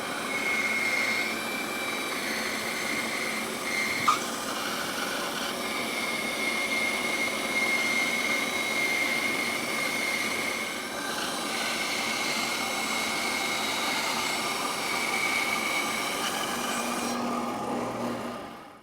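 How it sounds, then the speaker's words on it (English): A saw blade cuts through a curved wooden chair arm in one long, continuous whining rasp that stays even in level and pitch until it stops near the end. "I'm just going to keep my finger pressure right ahead of the blade as we go through."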